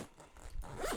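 A backpack zipper is pulled along a pocket in one quick, close rasping run that grows louder toward the end, with no voices.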